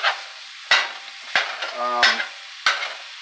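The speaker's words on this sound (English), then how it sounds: "all you do is you just chop this into crumbles" Sausage being chopped into crumbles in a frying pan with a utensil: four or five sharp scraping knocks spaced under a second apart over a soft sizzle, close and fairly loud.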